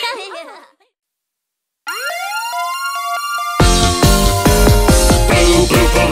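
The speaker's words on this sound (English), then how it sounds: "Blue, blue police car, woo, woo." A police car siren plays in a children's song about heavy vehicles, a rising electronic wail that gives way to loud, busy music.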